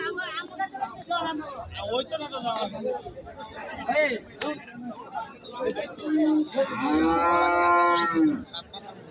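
A cow moos loudly and drawn-out near the end as it is walked for inspection, amid a busy crowd of chattering voices and general cattle market hubbub.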